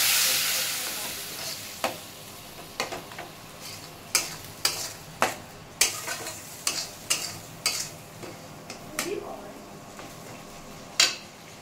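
Ground spice paste sautéing in oil in a pan, with salt and a little water added: a soft, steady sizzle under a string of sharp spoon-against-pan clacks and scrapes, close by and irregular.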